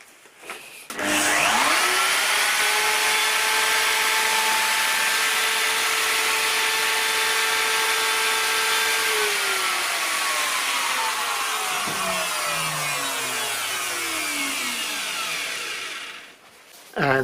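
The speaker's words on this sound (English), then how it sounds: "with this rounded over bit in the router, I can plunge it down to the right depth" Handheld router with a round-over bit plunged to depth and run along a timber board: a loud, sustained high motor whine spinning up, holding steady for about fifteen seconds, then winding down.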